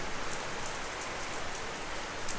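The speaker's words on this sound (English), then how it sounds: "Starts raining again. We've had rain for 5 days straight." Steady rain falls after days of downpour by a flooded lake, a continuous close hiss with scattered drops and no voices.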